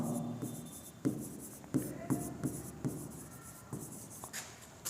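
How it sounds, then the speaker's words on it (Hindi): Chalk or marker writing out a definition on a classroom board during a chemistry lesson, a steady scratching run broken by sharp taps and strokes at a moderate, close level with no talk. "पहले इसका डेफिनेशन लिखते हैं।"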